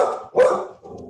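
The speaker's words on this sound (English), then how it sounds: "that's my dog." A dog barks close by, a couple of loud bow-wow barks across about a second, heard indoors during a lecture with no talk in between.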